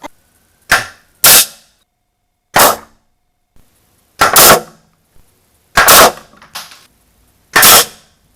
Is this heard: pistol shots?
yes